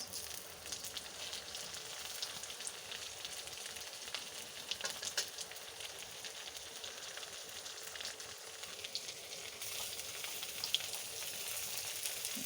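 Raw fish and onions frying in a pan, a steady, faint sizzle with dense crackling and occasional stirring, continuous throughout with no talk.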